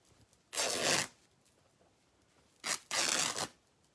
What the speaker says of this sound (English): you can just rip it, and it rips straight